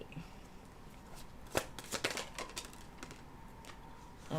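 A deck of tarot cards shuffled by hand during a live reading, with a run of sharp riffling snaps and soft slides heard close up in a quiet room.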